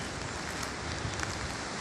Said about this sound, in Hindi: कर्णप्रयाग में हो रही बारिश